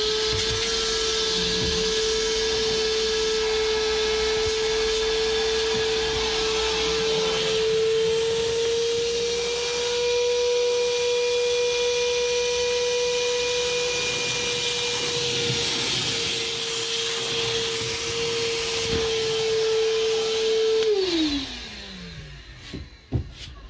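A cordless R11VAC Li Evolution vacuum cleaner sucks up water with a loud, steady whine that holds for about twenty seconds, then winds down as the motor shuts off.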